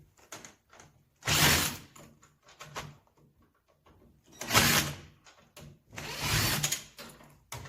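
Fixing screws are removed from an LG drum washing machine during repair, giving three loud whirring bursts of about a second each, separated by quieter clicks and handling knocks.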